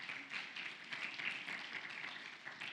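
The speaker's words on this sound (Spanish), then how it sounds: "Podemos dar un fuerte aplauso al Señor." Congregation clapping for the Lord during a Sunday church service, a steady crackle of many hands sustained and moderately loud throughout, no talk over it.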